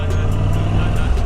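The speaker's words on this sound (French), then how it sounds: "cette moto elle fait du 6-7 litres au 100" A motorcycle on the move, its engine giving a steady, close low drone mixed with broadband road and wind rush, with no letup and no voices.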